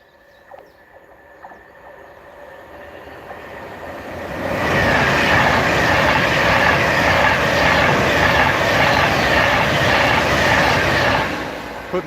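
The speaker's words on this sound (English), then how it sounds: "Pendolino approaching" A Pendolino train on the West Coast Main Line north of Crewe approaches faintly, then rushes past loudly for about seven seconds with a dense roaring whoosh before quickly fading.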